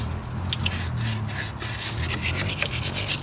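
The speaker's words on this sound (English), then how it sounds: "I do have like a scraper thing." A scraper works steadily across a surface during motorcycle and Buick repair, producing a close, continuous rough rasping with repeated strokes.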